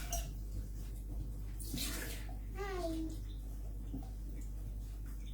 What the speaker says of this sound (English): Just going to rinse it out quick